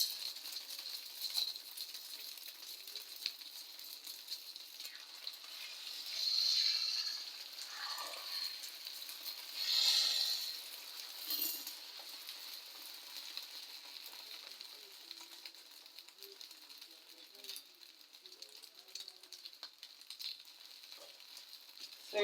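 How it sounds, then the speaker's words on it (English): Eggs fry in a pan for a Kenyan-style scrambled egg stew, a faint, steady hiss of sizzling that rises in a couple of brief louder surges. "So we'll fry the eggs until they are ready."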